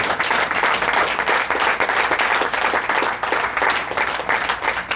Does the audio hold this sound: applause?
yes